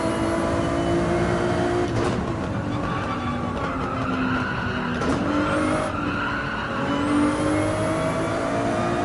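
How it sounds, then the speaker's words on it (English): A race car's engine accelerates and climbs through the gears in Gran Turismo 7 at Highway 1, loud and close, with tire squeal and skidding as the revs rise and fall between shifts. "Back on the throttle before the apex marker"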